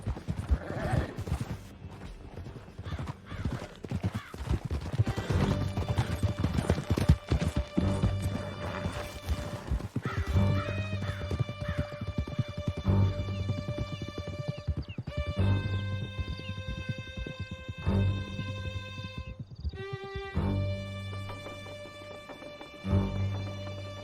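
Horses gallop in Red Dead Redemption II, a steady rush of hoofbeats under a dense game soundtrack, with whinnies rising now and then across a long ride through a canyon.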